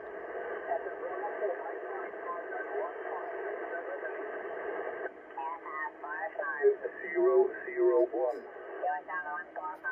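A Yaesu FT-710 receiver tuned near the ham band edge gives a band-limited, tinny single-sideband signal: a steady hissy carrier-laden tone first, then warbling, distorted voices coming and going over the receiver's noise.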